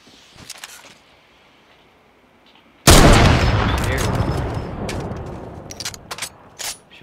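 Gunfire erupts in a Fortnite match, a sudden loud burst of shots and booms that breaks a quiet stretch and then decays into rattling noise, with scattered sharp cracks following.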